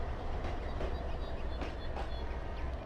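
A train rolls steadily on rails in the Trainz simulator, passing through a downtown area with retired CSX units; a continuous low rumble with faint rhythmic wheel clicks, no speech.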